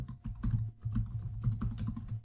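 Typing on a computer keyboard while entering text into a spreadsheet: steady, close, quiet key clicks in a quick irregular rhythm, heard alone.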